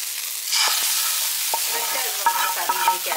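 Grated coconut stirred and fried until brown in a pan, a soft constant sizzle broken by scraping strokes of a spoon against the pan, no talking.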